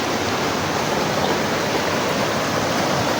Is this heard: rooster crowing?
no